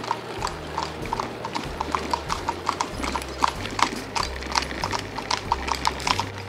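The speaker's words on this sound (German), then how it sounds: "Eine Kutsche vor uns." Horse-drawn carriage on a road, hooves clip-clopping in a steady, close rhythm with rolling wheel noise underneath, heard while cycling, with no talk.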